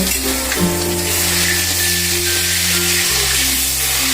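Onion paste and ginger-chili paste sizzle steadily in hot oil with ghee in a kitchen pan, a loud, continuous crackling fry with a faint background hum.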